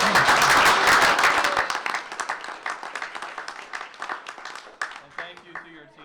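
Applause from the audience at a school board meeting, strong and dense at first then thinning into scattered claps that fade over several seconds.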